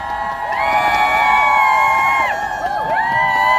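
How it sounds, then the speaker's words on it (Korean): A crowd at a rally against election fraud welcomes party leader Min Kyung-wook with sustained cheering, whoops and high shouts rising over a dense crowd din, loud and continuous for several seconds. "민경욱 대표님을 박수로 모시겠습니다"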